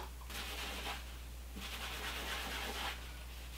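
Sandpaper rubs over shiny new satin fabric to distress it, making three close, scratchy bursts of rasping friction separated by short pauses, with no voices.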